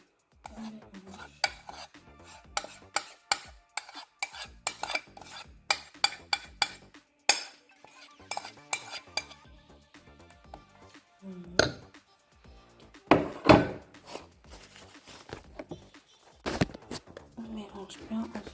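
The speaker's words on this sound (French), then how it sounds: "On mélange bien" A spoon stirs mashed banana into a date and chocolate cake batter in a dish, giving repeated close scraping and clinking strokes against the sides, interrupted by pauses and spoken talk.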